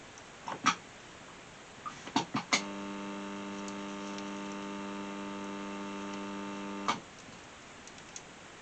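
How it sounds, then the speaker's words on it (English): A resistance soldering machine hums steadily for about four seconds, a clean electrical drone bracketed by soft clicks and taps, used to solder parts of an iron-bodied Tal-y-llyn wagon model at a quiet workbench. "I'm using the resistance soldering machine."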